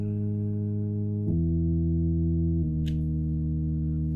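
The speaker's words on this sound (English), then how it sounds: "you can use church organ as a bass, which was sub bass" Deep, sustained church organ tones used as sub bass hold low notes, shifting pitch twice in steady steps, with a brief faint click near the end.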